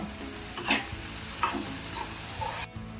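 Tomato frying in a pan with salt and turmeric, a steady sizzle under occasional scraping stirs of a spoon.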